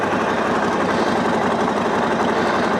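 A Harley-Davidson Sportster Iron 1200 motorcycle engine idles steadily at close range, a continuous loud rumble with a fast, even putter and no voices.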